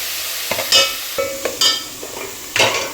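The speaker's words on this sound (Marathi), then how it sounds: "चांगला मसाला हे हलवून घ्यायचा पण भाजलेला मसाला आहे त्यामुळे ही बारीक गॅसवर थोडाच भाजायचा" Chicken masala roasts on a low gas flame while a spoon stirs and scrapes the pan in several sharp strokes over a quiet underlying sizzle, with no speech.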